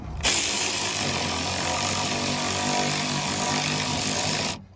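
A power tool runs continuously for several seconds, tightening bolts on the upper control arm of a 2000-2004 Dodge Dakota or Durango 4x4, a loud steady buzzing whir that starts and stops abruptly.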